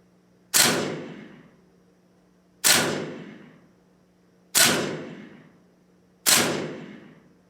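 Four evenly spaced single gunshots in a VR shooting practice simulator for zeroing a rifle, each a sharp crack with a quick decaying tail, about two seconds apart, clear and alone.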